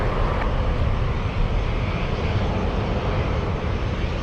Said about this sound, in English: Delta Airlines 1656 flying to Seattle, Washington.